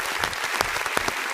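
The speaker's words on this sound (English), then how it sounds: "Give him a round of applause for that" A studio audience gives a radio show caller a brief burst of dense, steady clapping, close and loud.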